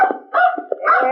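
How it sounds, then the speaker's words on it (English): A dog barks several times in quick succession at close range, loud sharp yelps in an old 1952 Western film setting, with no talking. "Better leave the dog out here, Whitey."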